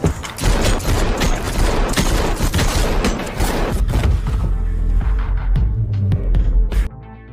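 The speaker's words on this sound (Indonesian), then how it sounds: "Hingga keduanya pun terlibat baku tembak." Gunfire during a shootout in the film Silent Night: dense, loud bursts of rapid shots with booming impacts, nearly continuous, then easing into scattered shots near the end.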